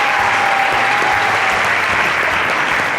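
Audience applauding a band at a live show, loud, dense and sustained clapping from a close crowd that holds steady from start to finish.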